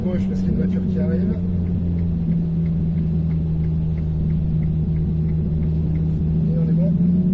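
A car rumbles on the Nogaro circuit, a steady low engine hum heard from inside a vehicle, with a faint higher whine drifting in near the end as another car approaches.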